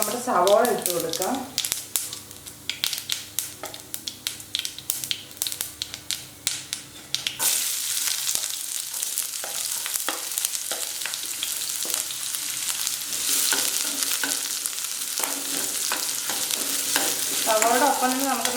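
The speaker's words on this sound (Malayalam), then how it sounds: "അതിനകത്തോട്ട് നമുക്ക് നമ്മുടെ സവോള ഇട്ട് കൊടുക്കാം." Sliced onion drops into hot coconut oil and breaks into a loud, steady sizzle that follows crackling mustard seeds, with a spoon stirring now and then. A voice speaks briefly at the start and again near the end.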